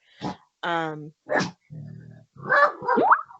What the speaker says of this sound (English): my dog just decided to bark